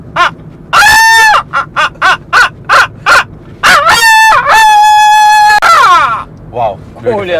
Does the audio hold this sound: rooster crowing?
yes